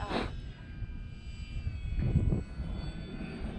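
An Arrows RC Bigfoot model airplane's motor runs at full power during takeoff, a steady whining drone that swells a little as the plane gathers speed.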